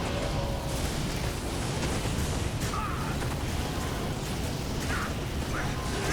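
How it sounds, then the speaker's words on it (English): A Necromancer's corpse explosion spell in a video game sets off dense, continuous rumbling blasts and bursts, loud and unbroken throughout. "for stamp, corpse explosion"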